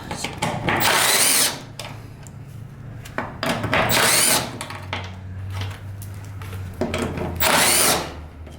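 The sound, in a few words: power tool removing fuel pump cover bolts on a truck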